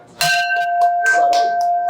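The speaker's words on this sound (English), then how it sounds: "let us first ring your success bell" A brass success bell is struck once and left ringing, its clear sustained tone fading slowly while faint voices and movement carry on softly underneath.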